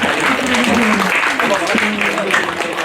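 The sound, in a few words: audience applause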